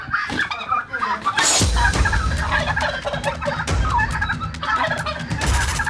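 Several male turkeys gobble in loud, rapid bursts close by while fighting at feeding time, overlapping with scuffling and flapping noises and a voice speaking over them.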